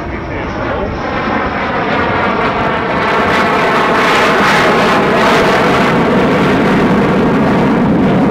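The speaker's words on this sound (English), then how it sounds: "Once again, from left to right, the Red Knight from the Jet Aircraft Museum." A CT-133 Red Knight jet flies past at the 2018 London airshow, its loud, continuous engine roar swelling to a sustained, close blast as it passes overhead.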